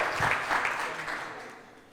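An audience at a De Beers event applauds the Young Diamantaires, a dense burst of clapping that is strongest at first and then gradually fades out.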